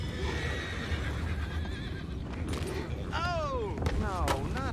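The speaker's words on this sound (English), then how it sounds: "You mind the horses?" Horses whinny and neigh in Red Dead Redemption 2, with several rising-and-falling calls near the end over a steady rumble of ambient game noise and faint hoof clatter.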